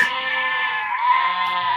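A sheep bleats in one drawn-out, wavering cry that briefly dips and then resumes, loud and close with no other sounds.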